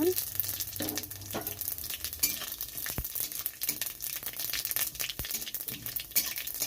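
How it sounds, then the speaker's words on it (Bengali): Panch phoron spices crackle and sizzle in hot oil in a wok, a steady busy frying hiss with scattered pops and sharp clicks throughout, close and fairly quiet. "কড়াইতে তেলটা গরম হয়ে গেছে। এখানে আমি দিয়ে দিচ্ছি পাঁচফোড়ন।"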